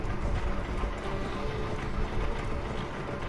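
Horse hooves beat steadily while riding across open country in Assassin's Creed Valhalla, a continuous galloping rumble mixed with wind-like noise, even in level from start to finish.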